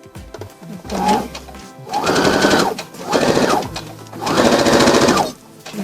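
A sewing machine stitches a jacket lining for a boy's three-piece suit, running close and loud in four separate bursts of rapid mechanical whirring. The short pauses between bursts are quiet.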